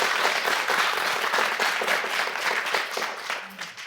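A studio audience at a Korean government policy talk show breaks into sustained, dense applause that holds steady and loud, then begins to thin and fade near the end, with no voices over it.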